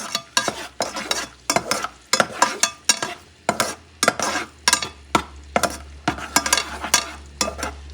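Garlic sauce with dry parsley sizzling in a cast iron pan as it is stirred, giving a rhythmic run of sharp scraping strokes over a bright, close sizzle, with no voices.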